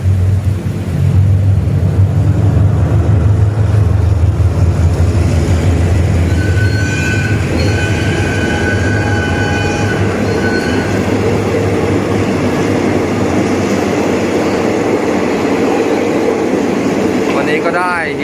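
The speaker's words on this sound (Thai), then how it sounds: "ถ้ามีรถไฟมาแล้วนะครับ รถเร็ว171นะครับ" A train rumbles loudly into a Thai railway station, its heavy low drone joined by faint squealing wheels and a sustained tone as it slows, during heavy rain.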